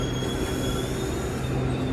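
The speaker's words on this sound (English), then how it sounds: "but that's my train right there." A passing train with squealing wheels on the rails, a steady loud rumble and high metallic squeal continuing throughout, with no talk.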